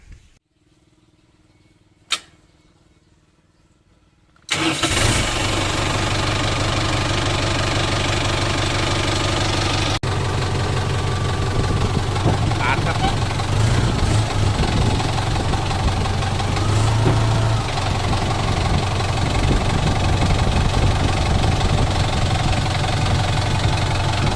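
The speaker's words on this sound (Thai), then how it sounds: "เดี๋ยวจะสตาร์ทเครื่องให้ดูนะครับ" A Kubota M70 farm tractor, with front blade and rear plow and a broken hand throttle cable, cranks and catches after a short quiet stretch, then settles into a steady, loud diesel idle with a rhythmic knock that runs on for about twenty seconds.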